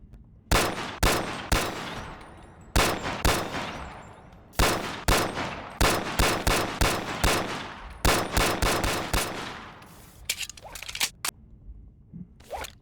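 Rapid bursts of automatic gunfire from a modded gun in the VR game BONELAB, loud and close, fired in short repeated volleys with brief pauses, ending in a few scattered clicks and lighter mechanical clacks.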